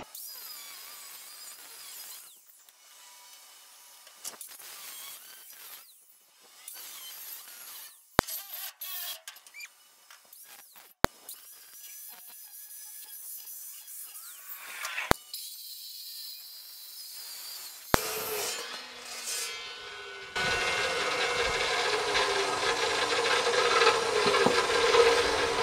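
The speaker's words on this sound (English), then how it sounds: "Probably have to come back with the sawzall and cut that out." A reciprocating saw cutting steel trailer hitch metal while a 13,000 lb winch mount is fitted: scraping, rubbing and sharp knocks, then a loud, steady, harsh buzzing cut that continues to the end.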